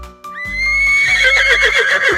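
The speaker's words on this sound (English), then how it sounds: "Here comes the horse running fast." A horse lets out a loud, drawn-out whinny over a steady, low thumping rhythm, with clip-clop hoofbeats running beneath it close by.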